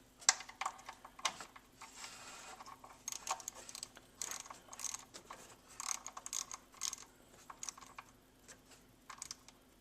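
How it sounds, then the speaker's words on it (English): Faint scattered clicks and ratcheting ticks from a wrench tightening a Vanos solenoid bolt to 9 Nm on a BMW N5x-series inline-six engine, close by in a quiet workshop with no voices. "Okay, tighten that up to 9 Newton meters."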